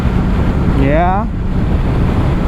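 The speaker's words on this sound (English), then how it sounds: "wind not too bad at 100" Steady, loud wind rush buffets the microphone while riding a 2021 Kawasaki Z650 motorcycle at about 100 on the highway, a broad roar that holds constant throughout with a brief tonal whine passing through mid-clip.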